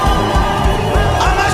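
A church congregation claps and ululates in praise of the king, a dense, loud wash of rhythmic clapping and shrill trilling voices that holds steady throughout the short burst.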